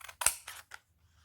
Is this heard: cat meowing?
no